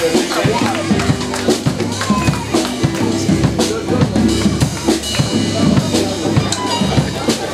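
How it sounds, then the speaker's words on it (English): An audience gives a steady round of applause, dense overlapping claps filling the room continuously for several seconds. "Give them a round of applause."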